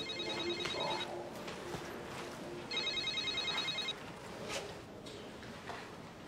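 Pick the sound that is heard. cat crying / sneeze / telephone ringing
telephone ringing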